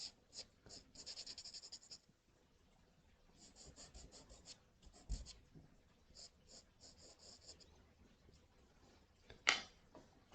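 Girault pastel chalks are rubbed and blended on paper for a bird drawing, producing soft intermittent scratchy strokes in short bursts with a louder scrape near the end, close and quiet.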